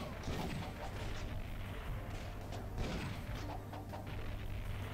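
Gunfire in the PlayStation shooting game Time Crisis: Project Titan, a quiet dense stream of repeated shots and booms over a steady background hum, no talk.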